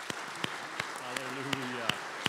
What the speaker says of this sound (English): Let's give God a big hand clap of praise this morning.